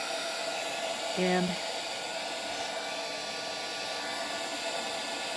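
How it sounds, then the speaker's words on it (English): A heat gun set to its highest setting blows a loud, steady roaring hiss at a little golden book spine to soften the glue, continuous throughout while a voice speaks briefly over it. "I'm going to use my heat gun, heat tool"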